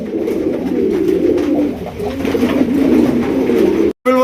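Golla pigeons coo continuously in low, throaty, overlapping calls, close and fairly loud, ending in a brief cutoff.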